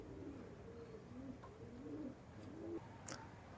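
Soft, low cooing from a pair of Pakistani high-flying Teddy pigeons, several quiet rolling coos in a row, close but faint, with no voices.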